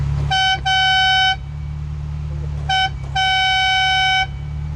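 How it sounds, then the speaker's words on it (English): High-pitched horn of a 1980s Ferrari 328, sounded in two pairs of blasts: a short toot then a longer one, repeated, loud and close over a low engine idle. "the glorious Italian horn that's activated by pressing the Ferrari logo in the middle of the steering wheel"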